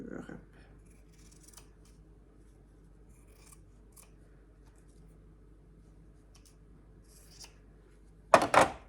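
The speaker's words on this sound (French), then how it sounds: "Là, avec mes ciseaux, je vais venir couper mes coins sans me tromper." Scissors snip fabric corners for a quilt, with a faint rustle early on and a sharp, loud cluster of close cutting sounds near the end after a quiet stretch.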